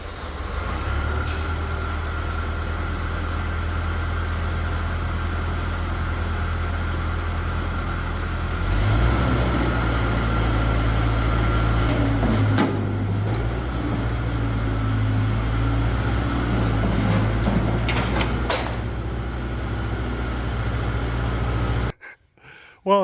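A Mustang skid loader engine with a governor that isn't holding speed runs with a loud, steady low rumble that grows rougher and harder-working midway through, then cuts off abruptly near the end.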